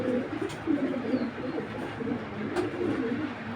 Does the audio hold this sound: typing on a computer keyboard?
no